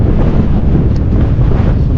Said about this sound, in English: You still got some wind